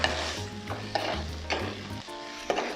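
A spoon stirs glutinous rice in a pot for arroz caldo, a steady sizzle running underneath as repeated scraping strokes land about every half second, close and fairly loud, with no talking.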